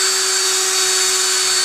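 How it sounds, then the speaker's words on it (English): A loud, close power drill whines continuously at a steady high pitch throughout, drilling out holes in the cover of a Honda EU2000i generator indoors. "I'm just going to drill them out."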